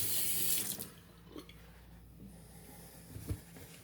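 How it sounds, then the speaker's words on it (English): Hands rinsed under a running bathroom tap before a vintage wet shave: a loud rush of water for under a second, then quieter splashes and drips with a faint room hiss. "Let's rinse off the hands"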